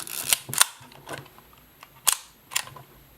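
Kodak Retinette 1B camera shutter firing at 1/30 second, a few sharp close clicks spaced apart, including the light mechanical snap of the release and shutter with no talking.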